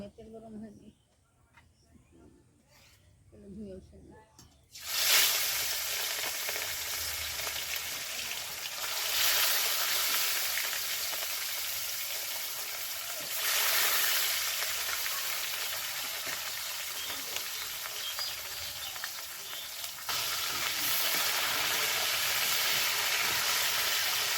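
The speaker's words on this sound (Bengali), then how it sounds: "তেল গরম হয়েছে লবণ হলুদ মাখানো মাছ তেলে দিয়ে দিব" Fish coated in salt and turmeric drops into hot oil in a pan over a home clay stove, bursting into a loud, steady sizzle after a few quiet seconds of background sound and continuing with surging crackle throughout.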